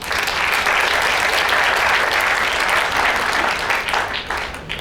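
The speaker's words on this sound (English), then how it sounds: "perhaps you could give that a round of applause" An audience bursts into sustained applause at an event on a cruise, dense clapping from many hands that holds steady and then starts to thin toward the end.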